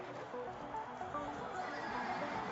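Horse neighs and whinnies in the ZED Run horse racing video game, with a steady, continuous neighing layered over game sound and faint hoof clip-clop, fairly close and moderately loud.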